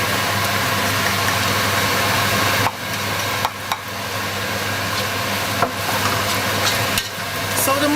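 Mushrooms and onion cooking in oil over a medium flame, a steady loud sizzle with a constant low hum, broken by several sharp stirring scrapes and clatters.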